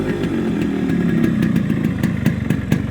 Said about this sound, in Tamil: முன்ன இன்ஜின் ரன் ஆனதுக்கும் இப்போ இன்ஜின் ரன் ஆகிறதுக்கும் நல்லாவே டிஃப்ரெண்ட் தெரியும்.